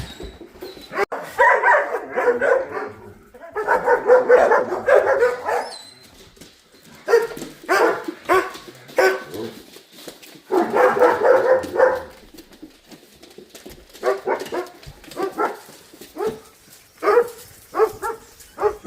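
A dog barks in repeated bursts of several loud, close barks separated by short pauses, with a few yips and whimpers between them, indoors in a home.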